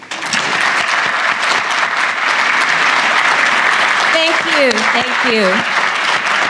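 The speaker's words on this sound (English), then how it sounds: "I invite you all to join me in giving a round of applause to our Chief Executive" A business summit audience gives a loud, continuous round of applause for Hong Kong's Chief Executive, with brief spoken thanks heard over the clapping near the end.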